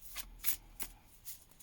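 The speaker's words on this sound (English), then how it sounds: "I'm not good at shuffling cards" A tarot card deck is shuffled by hand in a few quick, soft riffling bursts, close and fairly quiet, with no talking over it.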